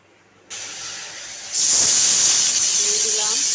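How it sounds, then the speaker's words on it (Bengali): Chopped potatoes drop into hot oil with cumin seeds, starting a sudden close hiss that jumps louder a second later and then holds as a steady sizzle, with faint voice in the background. "তেলটা গরম হয়ে যাওয়ার পরে দিয়ে দিলাম আমি একটুখানি আলু কুচি"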